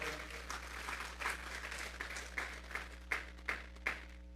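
A church congregation claps together as an offering to God, steady applause filling the room with sharper bursts of clapping rising toward the end, a low hum underneath and no talk.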